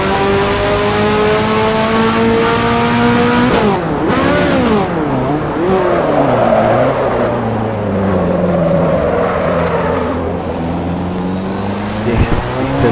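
A Ferrari F40 in Assetto Corsa roars steadily with layered gear whine and turbo hiss, pitch dipping and climbing through shifts, loud and continuous with no voices.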